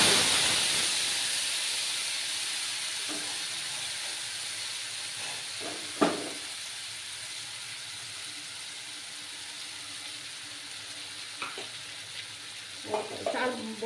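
A cashew, raisin, tomato and ginger paste sizzles steadily in a hot pan, a constant frying hiss with a few soft stirring clinks and scrapes, close and fairly quiet.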